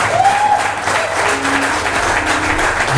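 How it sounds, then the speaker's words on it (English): Audience at a Nigerian Independence Day church celebration clapping for the hosts, a dense, loud burst of applause sustained for a few seconds with faint crowd murmur. "So you need to give them the biggest clap."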